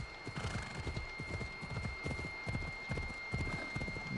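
A horse arriving in the video game Assassin's Creed Odyssey gallops close by, its hooves clopping in a quick, steady rhythm over a constant hum.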